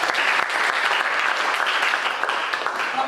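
Steady applause from a classroom audience during an automotive engineering teaching assessment, dense continuous clapping held at an even level throughout with a faint voice underneath.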